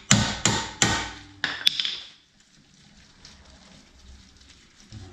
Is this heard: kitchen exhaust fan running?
no